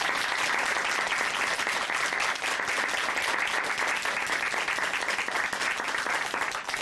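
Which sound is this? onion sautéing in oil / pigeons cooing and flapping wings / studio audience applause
studio audience applause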